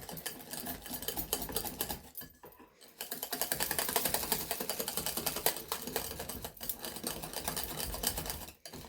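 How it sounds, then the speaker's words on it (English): A whisk beats a thick kiwi dip in a bowl, producing rapid, close, rhythmic scraping and clicking strokes that continue almost nonstop with a couple of brief pauses. "Get yourself a whisk and start whisking it up."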